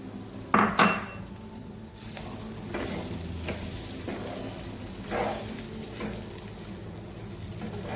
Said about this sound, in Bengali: বেসনটা যে ভেজে রেখেছিল দিয়ে দিলাম।